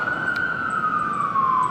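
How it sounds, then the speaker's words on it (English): An ambulance siren passes by as a loud, steady wailing tone that slides slowly downward, with road rumble underneath. "it's getting more louder as the ambulance passing by"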